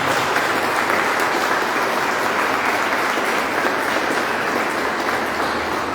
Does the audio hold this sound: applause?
yes